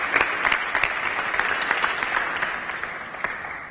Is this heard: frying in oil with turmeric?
no